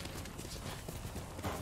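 Horse hooves clip-clop steadily at a walk in the open-world samurai game Ghost of Tsushima, a close, even patter with a brief louder thump near the end and no talk over it.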